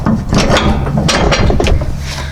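A Cub Cadet XT1 50-inch lawn tractor's mower deck is lifted by its arm, giving a short run of close metallic clanks, ratcheting clicks and scraping over a couple of seconds.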